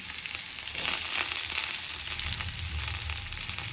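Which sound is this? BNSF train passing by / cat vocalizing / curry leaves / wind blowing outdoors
curry leaves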